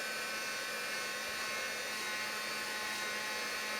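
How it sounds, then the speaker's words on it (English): A handheld craft heat tool blows a steady, loud whooshing hum while drying ink on a card project, holding one even tone throughout with no talking. "give it a little shot with the heat tool before you try to attach anything to it so it's nice and dry"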